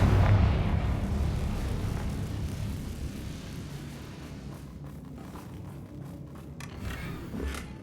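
Confringo spell cast in the Hogwarts Legacy video game, a loud fiery blast and roar at the start that slowly fades into a rumbling, crackling tail with a few faint sharp ticks near the end, with no talk.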